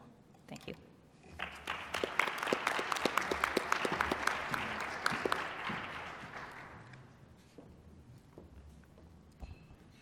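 An audience at a conference breakout session on implementing UNDRIP applauds the four speakers, a dense burst of clapping that swells, holds for several seconds, then fades away.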